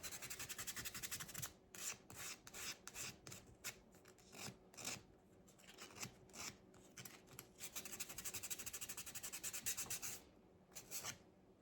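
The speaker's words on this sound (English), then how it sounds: "And then I'm going to take my little sander and kind of rough it up just a little bit." A small sander lightly roughs up a surface before antiquing and wax, making faint rhythmic rasping strokes broken by short pauses.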